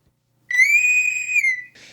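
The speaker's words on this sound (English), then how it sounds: "don't wait till the whistle" A single sustained whistle blast marks the start of a podcast segment, steady and clear for over a second with bright overtones, followed by a short burst of hiss.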